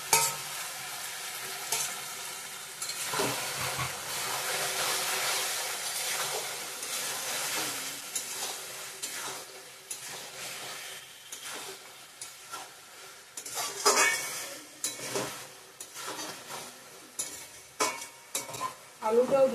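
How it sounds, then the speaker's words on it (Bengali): Chicken curry being stirred and sautéed in a pan, a steady close sizzle with scraping spoon strokes and occasional louder clatters throughout, no talking. "ভালো করে কষিয়ে নিতে হবে"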